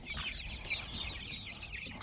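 Black chicks of an Andijan breed cluck and peep softly in a steady, busy chatter throughout, a close flock sound with no talking.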